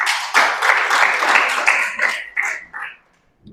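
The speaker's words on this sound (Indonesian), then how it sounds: "Tepuk tangan bagi Tuhan kita" A church congregation claps together for God, a dense burst of clapping that comes in a few uneven waves and then stops abruptly into silence.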